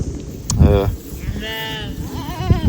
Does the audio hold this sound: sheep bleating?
yes